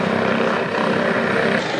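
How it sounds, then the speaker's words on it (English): A loud, steady helicopter roar with a constant rotor thrum and engine drone that fills the air without letting up. "there is a helicopter currently circling"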